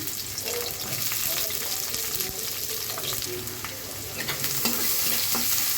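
Chopped onions and green chilies fry in oil in a pan, a steady loud sizzle with scattered stirring clicks and scrapes throughout, close up and without speech.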